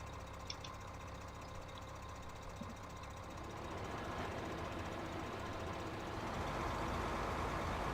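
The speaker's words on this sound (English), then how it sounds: "let's see what happens when we hit this one with the grinder" A stump grinder chews into a big tree stump in Farming Simulator 15, its steady engine drone growing rougher and louder halfway through as the grinding takes hold and keeps on to the end.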